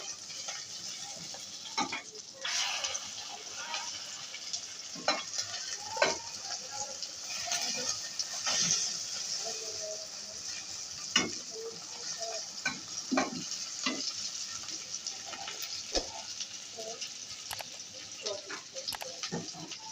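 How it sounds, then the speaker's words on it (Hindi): Chana dal bun kebabs with egg fry in a pan with a steady, moderate sizzle, broken by scattered clicks and scrapes of a utensil against the pan. "ये देखें हमारे कबाब जो है ना ये फ्राई हो चुके हैं"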